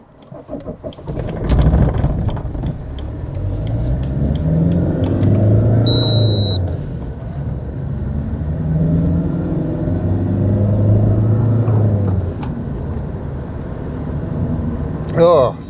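Road traffic rumbles around a Fiat Multipla in roadworks congestion, with low engine drone rising and falling in waves while someone talks throughout.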